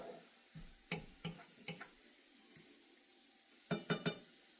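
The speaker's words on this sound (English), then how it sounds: "let me give this a little stir here" Chicken in sesame seed oil sizzles softly in a skillet while a utensil stirs it, giving a few sharp scraping knocks, with a quick cluster of clanks near the end.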